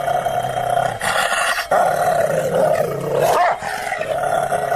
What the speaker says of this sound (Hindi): शेरू उसे देखकर बहुत जोर जोर से भौंकने लगा